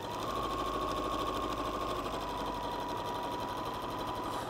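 A sewing machine runs steadily, stitching dress fabric with green thread at a constant even hum and rapid needle clatter, close and alone.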